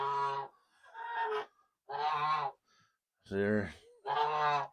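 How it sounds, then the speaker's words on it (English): Geese honking loudly and close in a farm enclosure with turkeys, several harsh honks in bursts with short pauses, a brief spoken question between them. "Geese."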